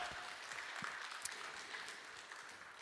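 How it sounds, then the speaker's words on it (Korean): A church congregation at a Sunday worship service claps together, a steady wash of applause that carries on evenly throughout, heard from a moderate distance with no voices standing out. "하나님께 영광의 박수 올려드리겠습니다."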